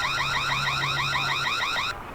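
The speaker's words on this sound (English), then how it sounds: "but I can turn this on, and here's our siren sound." A Reolink Altas solar-powered security camera sounds its default siren, a loud warbling electronic wail sweeping up and down repeatedly, then cutting off abruptly near the end.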